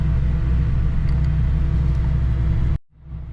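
A car engine idles in a dyno shop with a loud, steady low rumble, then cuts off abruptly near the end, leaving a fainter hum.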